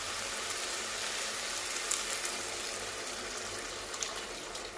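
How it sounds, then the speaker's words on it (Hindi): Water poured into a pot of soaked rice while making jeera rice, a continuous, fairly loud trickling pour with a few small splashes and no talking. "अब इसी के अंदर पानी भी डाल दूँगी मैं।"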